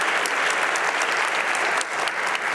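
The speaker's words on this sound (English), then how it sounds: "You're the ones who should get the applause." An audience applauding, a dense steady wash of clapping from many hands that stays loud throughout the short moment, with no speech over it.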